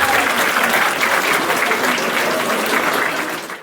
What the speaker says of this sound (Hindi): हम जोरदार तालीले स्वागत गरौँ